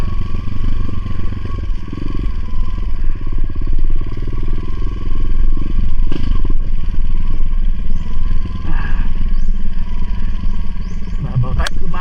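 Motorcycle riding over a rough trail, its engine a steady loud drone throughout with clattering and scraping from the rough ground, and voices occasionally audible beneath the noise.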